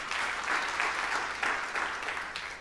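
Church congregation applauding, a dense, steady wash of many hands clapping at once, close and full, with no talk over it.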